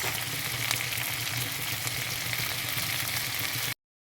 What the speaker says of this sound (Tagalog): Maluto-luto gawa ang akon nga kamatis.